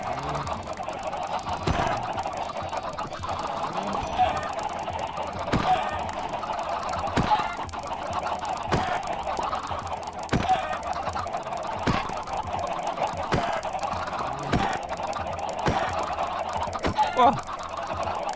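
Minecraft chickens that have been bred in large numbers cluck and squawk without a break, a dense and loud flock chatter with soft talk in the background.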